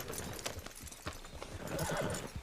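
A horse in Red Dead Redemption 2 clip-clops along with steady hoofbeats and lets out a neigh, close and clear with no talk.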